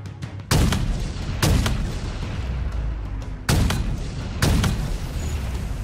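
Halo Infinite gunfire, four loud, sharp shots at irregular intervals, each with a heavy booming tail over continuous battle ambience, no talk.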